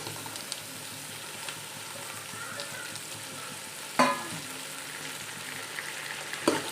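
Vegetables and tomato sizzle steadily while being sautéed for a vegetable biryani, with carrot, beans and split green chillies in the pan, plus sharp stirring clatters near four seconds and at the end.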